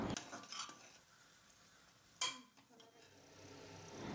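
Quiet, steady sizzling of chopped tomato sautéing in oil, with occasional scraping and stirring clinks from a utensil in the pan.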